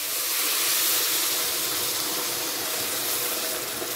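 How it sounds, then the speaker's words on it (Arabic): Boiling water pours steadily over rice in a pot while cooking an Egyptian-style rice dish, a loud, continuous hissing gush lasting throughout with no talk. "هجيب بقى عندي شويه ميه مغليين"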